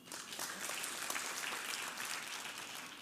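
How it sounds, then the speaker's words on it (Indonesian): Church congregation applauding during an Indonesian Christian sermon, a fairly faint, even wash of many hands clapping that holds steady throughout. "Beri tepuk tangan."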